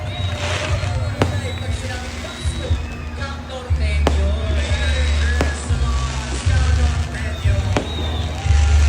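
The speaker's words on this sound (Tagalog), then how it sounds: "Wow, fireworks!" Christmas fireworks in the Philippines pop and crack at irregular intervals over a busy outdoor crowd murmur, with several sharp bangs standing out above a steady low rumble.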